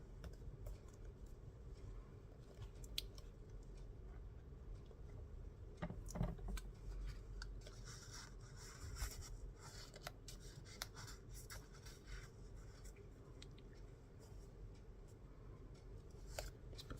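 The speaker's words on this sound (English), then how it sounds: "This is really hard to fussy cut this image" Scissors fussy-cut a paper image with thin, string-like details for a mixed media project, giving a run of quiet, close, crisp snips and clicks over a soft background hush.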